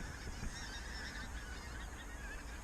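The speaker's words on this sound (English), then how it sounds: "But these geese are still piling out." A large flock of geese honks continuously, many overlapping calls blending into a steady distant clamor, with no voices.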